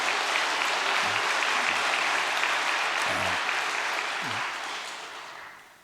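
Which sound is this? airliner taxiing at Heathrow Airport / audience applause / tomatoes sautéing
audience applause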